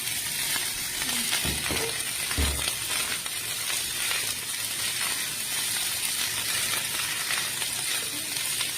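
Fried rice frying in a pan as greens are added, a constant close sizzle with a couple of soft low thumps from stirring early on, no voices.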